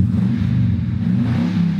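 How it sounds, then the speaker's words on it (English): Modified free-flowing exhaust on a truck with a slight misfire, a close, loud, steady idle rumble with faint irregular pops scattered through it. "And you can hear a little bit of pops here and there."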